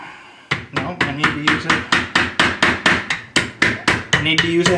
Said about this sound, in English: need to use a hammer again.